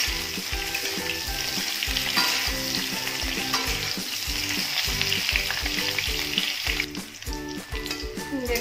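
Jackfruit pieces frying in hot oil give off a loud, continuous close sizzle, with repeated stirring scrapes over the bubbling and no voices.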